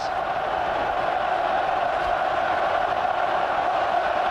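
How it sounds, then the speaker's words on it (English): A stadium crowd at the 2001 Australia versus British and Irish Lions rugby test roars continuously, a loud dense wash of cheering and shouting that never dips across the stretch. "Look at this crowd, absolutely on fire."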